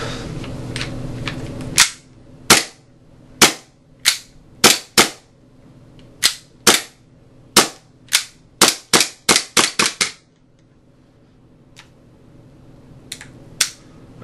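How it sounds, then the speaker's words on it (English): A WE 1911 gas-powered airsoft pistol fires the rest of its magazine in sharp, close snapping shots: three spaced at first, then an accelerating string of about a dozen, and one or two stray pops after a pause. "I'm just gonna empty out the rest of this mag so the gas doesn't stay in it"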